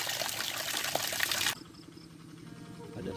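Water pours from a spout at an outdoor bathing place near rice fields, a close, bright splashing stream for the first second and a half before it cuts to quieter background.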